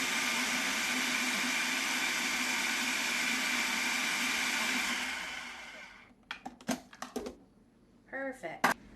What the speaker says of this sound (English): So now I'm just going to puree this up